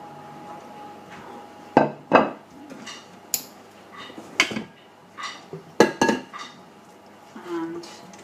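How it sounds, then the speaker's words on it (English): Mashed potato scraped and spooned from a pan onto a serving dish in a home kitchen, with a series of sharp clinks and knocks of utensil on crockery, some louder and close, set against quiet background. "put your mashed potato on its serving dish"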